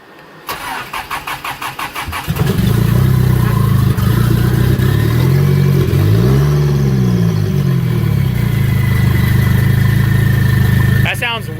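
A turbocharged Mitsubishi 4G63 engine, just retimed at the cam gears, cranks with rapid starter chugs, fires up loudly and settles into a rough, throbbing idle whose pitch rises and falls, close and dominant throughout.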